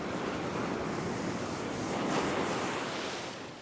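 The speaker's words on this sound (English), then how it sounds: "I have to wait for this next wave." Ocean surf breaks on the shore where salmon are being caught, a loud continuous wash of waves with wind buffeting the microphone, swelling slightly near the middle then easing off.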